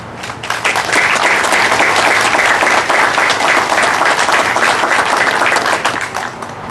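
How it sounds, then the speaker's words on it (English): Loud, sustained applause from a crowd at an outdoor 9/11 memorial ceremony hosted by an Elks Lodge, rising quickly and holding steady for several seconds before tapering off. "If we could give them a round of applause, please."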